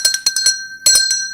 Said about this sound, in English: I must ring the bell for you.